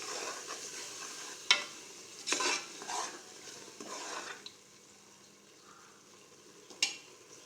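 Oil sizzles steadily in a pan while a spoon scrapes and stirs masala for veg biryani, with a few sharp clinks against the metal at irregular moments.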